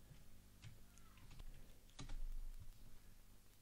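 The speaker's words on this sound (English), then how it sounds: "And now type in your password." Keys on a computer keyboard are tapped quietly as a password is entered, a scattered run of soft, close clicks with uneven spacing.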